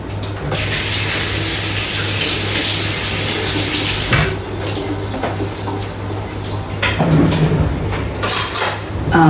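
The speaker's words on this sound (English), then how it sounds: "I've got to wash my hands." Tap water runs steadily into a kitchen sink while hands are washed, a loud close gush with splashing that breaks off once and then resumes with more irregular splatter.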